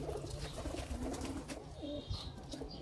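A Kamagar pigeon coos in short, soft repeated calls, fairly close against a faint outdoor background, with a few light wing or movement sounds and no talking.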